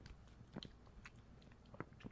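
Soft close chewing and biting of Trader Joe's food during an ASMR eating session, with faint wet crunches and mouth sounds, quiet and without talk.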